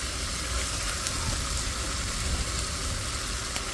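Leafy greens frying in a hot pan give a steady, loud hiss of sizzling oil, continuous and close without pauses.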